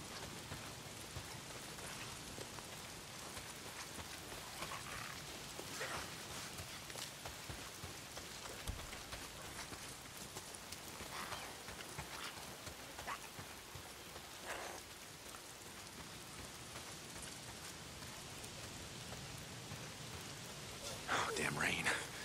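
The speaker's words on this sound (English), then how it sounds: "Why is it always raining?" Steady rainfall in the video game Days Gone makes a constant, dense patter and hiss on surfaces, holding an even level throughout with a few slightly louder splashy moments.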